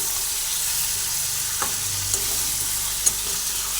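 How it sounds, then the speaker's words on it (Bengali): Mughlai chicken sautéing in oil, a dense continuous sizzle with occasional soft scrapes and clicks of a spatula against the pan, close and even throughout. "এইভাবে বেশ কিছুক্ষণ কষিয়ে নেব"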